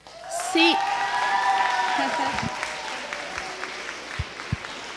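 Audience applauding a first-place elementary winner at the Tar Heel Junior Historian Association 2017 awards ceremony: sustained, full clapping from a crowd with a brief whoop near the start, holding steady before easing slightly.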